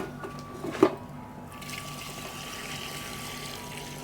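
Water poured into a pot for traditional Ghanaian lemongrass tea, a faint, steady trickling wash after a brief knock near the start, with no talking.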